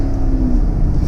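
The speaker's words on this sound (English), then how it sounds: "I love the exhaust note" A stock Corvette accelerates hard through a wide corner, its exhaust a loud, steady low droning rumble heard from inside the car.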